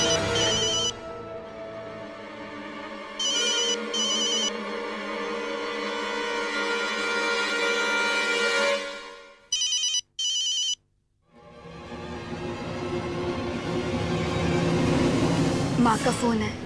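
A telephone rings in repeated bursts over loud background music, with short gaps of silence between some of the rings.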